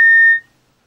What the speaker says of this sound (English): a pulsed audible alarm will activate, warning the rescuer that the gas supply pressure is running low